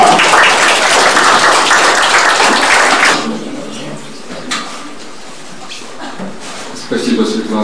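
Loud, dense audience applause greets singer Alexander Karev at a televised song show, filling the first three seconds before dropping away abruptly to quieter room noise and a few stray knocks.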